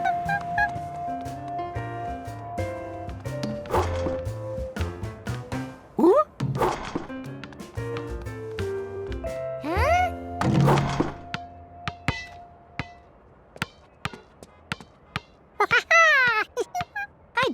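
In a Curious George cartoon, a basketball is shot at a hoop, giving several sharp thunks and thuds over light background music.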